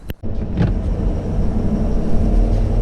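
A 2017 Ford F-550 Powerstroke diesel truck merging onto a highway, heard from inside the cab as a steady, continuous low engine and road drone.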